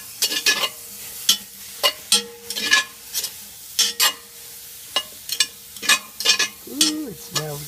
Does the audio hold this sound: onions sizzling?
yes